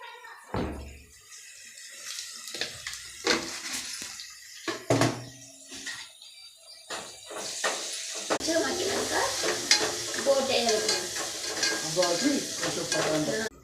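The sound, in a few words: onions and cloves frying in a pan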